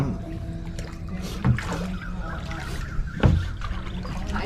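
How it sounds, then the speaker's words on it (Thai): Two soft paddle splashes from a rowboat paddled backwards, a couple of seconds apart, over a low steady background murmur on the Mun River in Sisaket. "นี่ครับเทคนิคการพายเรือถอยหลัง"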